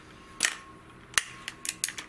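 Benjamin Trail NP XL Magnum .177 air rifle firing 7-grain Diablo Basic pellets: a sharp crack followed by several lighter clicks and snaps, close and clear, no talking.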